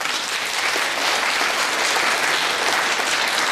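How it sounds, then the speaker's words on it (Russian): Applause from the audience at a round-table gathering welcomes a guest from India, a pandit, as a dense, even wash of many hands clapping at a steady, fairly loud level throughout. "Аплодисменты."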